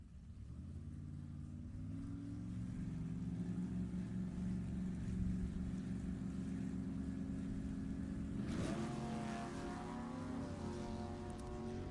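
Drag racing cars revving hard and launching at Sacramento Raceway in a Summit ET Series race, a sustained loud engine roar with rising harmonics that surges sharply near the end as the cars pull away.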